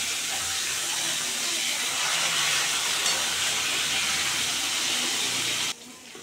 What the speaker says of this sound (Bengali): বোয়াল মাছটা তেলে দিলে ফুটে, তোমরা সবাই জানো।